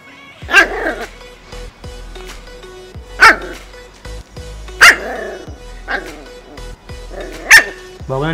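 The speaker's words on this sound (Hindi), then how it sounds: "कैमरे को देख के भौंक रहे हो?" A pet dog barks repeatedly at a camera indoors, five loud, close, sharp barks spaced a second or two apart, with whimpery yips and human vocal sounds between them.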